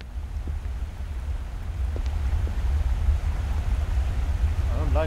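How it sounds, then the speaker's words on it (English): Rushing water in the horror game Erie rumbles as a low, steady roar that grows slightly louder partway through, with faint ticks above it and a short, high warbling sound near the end. "I'm hearing water, rushing water"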